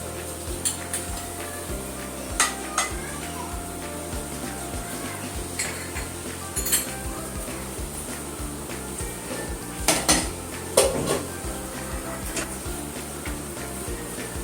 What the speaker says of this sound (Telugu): చూడండి బటర్ బాగా మెల్ట్ అయిపోతుంది.